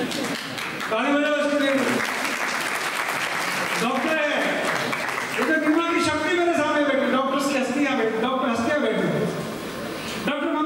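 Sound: applause

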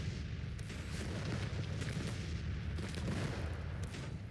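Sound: 12-pounder artillery fire from a video game (Grand Tactician: The Civil War)

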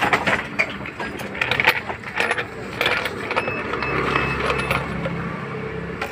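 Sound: tightening a 12 mm bolt on a car AC compressor clutch

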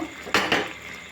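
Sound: stirring ridge gourd bora curry in pan held by handle

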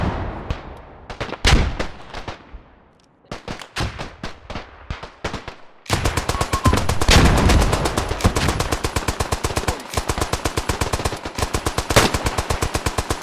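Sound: machine gun firing in the video game Beyond The Wire

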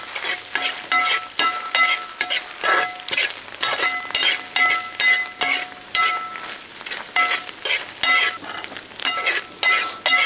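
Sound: stirring kootu curry in a pan

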